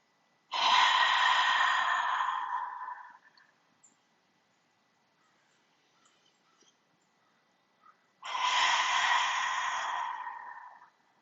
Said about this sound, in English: continuing with the audible exhale as if you're trying to fog up a window